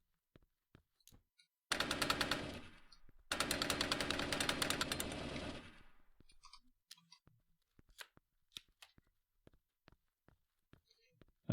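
A modular firearm fires in a NeoFPS game: two long bursts of rapid automatic shots, close and dense, then scattered single shots and sharp clicks follow at an irregular pace.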